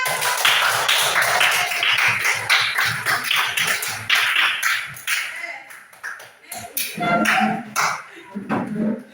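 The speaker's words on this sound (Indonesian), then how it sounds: "kita tepuk tangan" Hand clapping from a group of schoolchildren in a primary school science lesson, a run of quick, uneven claps spread across several seconds over classroom noise, with children's voices and talking mixed in.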